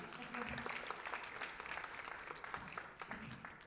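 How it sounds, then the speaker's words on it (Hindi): Sustained audience applause fills the hall at an Urdu poetry conference in the USA, a dense wash of clapping from a crowd that continues steadily throughout. "आप सबकी तालियों में महबूब अली खान।"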